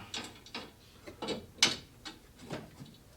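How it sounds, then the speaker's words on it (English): Close, crisp ratchet clicks tighten a bolt on a BMW S55 engine in an M3/M4, coming in short irregular bursts of pawl ticks with pauses between strokes. "I'm going to reinstall the bolt on here so I don't lose it."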